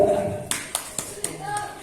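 A small group claps softly in a slow, even rhythm, four or five gentle claps spaced evenly, with a voice talking at the start and a soft tone near the end.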